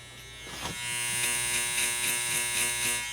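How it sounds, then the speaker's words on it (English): A hair clipper fitted with an Echo Crunch blade cuts hair at a barber's chair, giving a steady close electric buzz with a crunching texture as it moves through the hair. "I can listen for the Echo Crunch blade as it's cutting."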